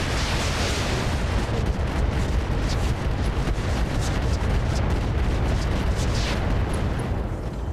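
Mech weapons fire in the BattleTech-based tactics game RogueTech, a sustained rumbling roar of explosions and impacts, loud and steady throughout with no speech over it.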